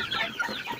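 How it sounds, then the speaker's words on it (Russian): Young Leghorn-cross roosters clucking softly in a brief, close burst of murmuring fowl sounds, with no one speaking. "Эти петухи у меня пойдут на мясо,"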